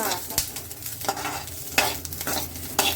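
Green chillies and chana dal are stirred and roasted in a hot pan for a North Karnataka chutney, giving a close, steady sizzle with repeated scraping stir strokes and no talk.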